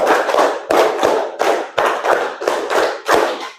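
Two rounds of five rhythmic hand claps from a class group in an Indonesian classroom, loud and close, each burst a tight cluster of sharp claps with brief gaps between rounds.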